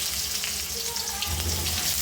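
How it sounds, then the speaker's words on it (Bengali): Potato pieces frying in hot oil, a dense continuous sizzle and crackle heard close up and fairly loud throughout, with no voices. "এখন আমি আলু ভেজে নেব ভেন্ডি দেওয়ার জন্য।"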